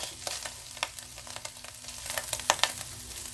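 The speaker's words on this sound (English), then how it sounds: "take the 1 pound bag of the coleslaw mix and just dump it in this pan here with the sausage" Shredded coleslaw mix cooking with sausage in a pan on a small burner gives a soft, close sizzle with scattered crackles and light stirring clatter, no voices.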